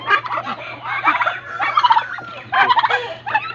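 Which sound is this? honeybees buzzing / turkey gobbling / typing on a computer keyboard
turkey gobbling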